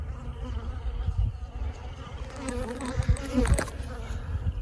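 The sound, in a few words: bees buzzing around beekeeper near storm-blown hives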